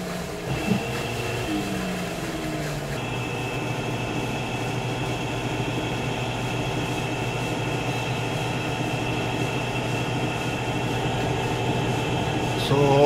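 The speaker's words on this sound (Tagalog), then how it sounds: "yung kanyang tunog sa kanyang pag-spin dry" A washing machine's spin-dry cycle gives a steady humming whir with a high-pitched whine, close and constant. The drum seems to speed up just before the end.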